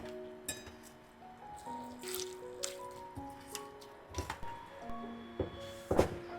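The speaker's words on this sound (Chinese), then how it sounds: "切好的蔥薑放入碗中，加入清水，用手擠捏一會兒，使蔥薑汁充分融入水中" A hand squeezes chopped scallion and ginger in a bowl of water, making soft, wet squelches and small drips at close range, with faint background music underneath.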